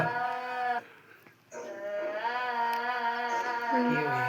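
A cow moos loudly and close in a long, drawn-out low call with steady harmonics, broken by a short pause, then lowing again for several seconds in an indoor home setting.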